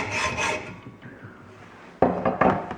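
Hacksaw scoring a mark on a Ford Windstar tie rod during a rack and pinion install: short rasping metal strokes, close and fairly loud, coming in two bursts with a quieter pause between.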